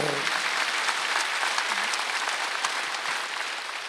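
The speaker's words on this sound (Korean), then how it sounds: "박수 좀 세게 쳐봐요." Church congregation at a Wednesday service clapping hard together, a dense sustained roar of many hands that tapers slightly toward the end.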